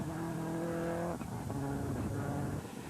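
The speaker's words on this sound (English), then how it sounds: "they await the Subaru of Niall Maguire and Paul McLaughlin, who are trying hard to catch the flying Donny O'Sullivan" Subaru rally car on a special stage of the 2004 Circuit of Kerry Rally, engine note rising and shifting as it closes in, with brief changes in pitch as it works through the gears, loud and near.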